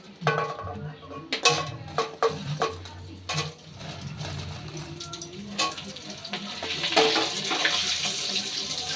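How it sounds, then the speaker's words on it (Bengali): Pre-fried pointed gourd pieces go back into hot oil in a kadai for a second fry, sizzling steadily while a utensil clanks against the pan several times close by. "আগে থেকে ভেজে রাখা এই যে পটলগুলো কিন্তু আবার আমি ফ্রাই করার জন্য কড়াইতে দিয়ে দিচ্ছি।"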